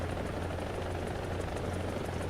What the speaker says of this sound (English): Hang on, is that a helicopter already? Yep, here it is.